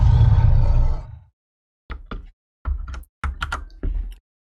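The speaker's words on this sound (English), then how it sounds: "I'll add the rest of the low grunts in. This one's also got bass amp on it." Layered low creature grunts, time-stretched and pitch-shifted with bass amp: a long, deep rumbling growl, then a pause and several short, choppy grunts in quick succession.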